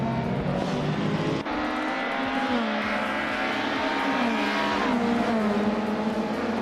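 Race cars in a racing game roar and rev close together while overtaking, engine tones rising and shifting through gear changes over a dense, constant engine drone, with a brief squeal of tires.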